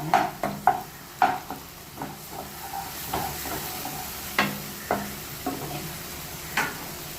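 Tomatoes sautéing in oil for a village-style fish curry, stirred in the pan: a low sizzle with repeated clinks and scrapes of the spoon against the vessel, close and intermittent.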